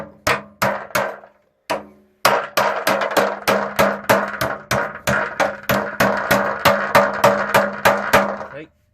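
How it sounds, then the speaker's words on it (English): A cheap small panel beating hammer striking and bending the metal of an MTD Lawnflite 904 mower cutting deck, a loud, close series of sharp ringing blows, a few spaced hits then a fast steady run. "I've got some small panel beating hammers here, they're quite useful, only cheap ones."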